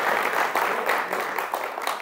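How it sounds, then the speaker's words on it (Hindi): An audience in a hall claps steadily, a dense, close wash of many hands lasting the whole moment with no break. "इनके लिए जरा तालियां बजाए"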